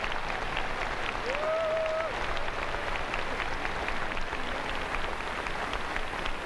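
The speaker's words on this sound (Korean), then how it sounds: "한번 뜨거운 박수로 격려해 주시면 감사하겠습니다" Large congregation at a 2002 Korean Easter union worship service applauding, a broad continuous wash of clapping heard from a distance, with a brief voice or tone rising over it early on.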